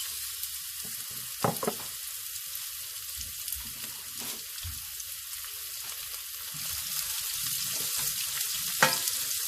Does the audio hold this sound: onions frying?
yes